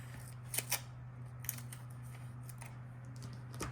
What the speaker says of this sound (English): I'm going to cut this splotch in half